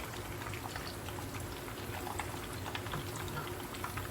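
Jali kabab frying in oil, a soft steady bubbling crackle close by, continuous and fairly quiet for a few seconds with no other sounds.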